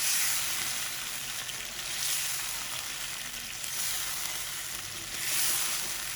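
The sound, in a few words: butter chicken karahi sizzling while stirred with spices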